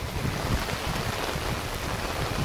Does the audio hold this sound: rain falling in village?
yes